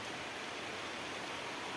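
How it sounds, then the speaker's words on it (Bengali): Steady rain pours down outside a home where water is pooling in front, a soft, even wash of noise with no voices, fairly faint throughout. "আজকে মনে হয় ভালোই বৃষ্টি হবে"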